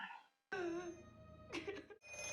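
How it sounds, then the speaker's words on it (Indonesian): A telephone rings in a horror film, the tone sounding in a couple of sustained bursts separated by short gaps, with eerie, tonal background sound around it. "Tapi tiba-tiba, telepon kembali berdering."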